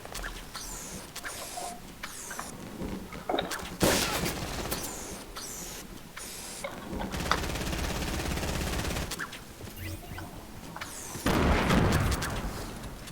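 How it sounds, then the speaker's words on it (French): Gunfire and explosions in a multiplayer shooter video game, with loud bursts of automatic fire and heavy blasts repeating over several seconds, no talking. "Ah merde, il me tire dessus."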